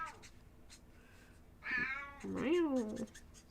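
A cat meows twice in quick succession, close and fairly loud, the second call longer and bending in pitch, over a quiet indoor background.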